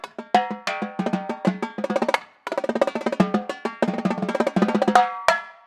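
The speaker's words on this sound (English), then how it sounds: "These are marching tenor drums." Marching tenor drums played in quick rhythmic strokes and rolls, bright pitched hits at several tones ringing out close and loud, with a short pause midway and no talking.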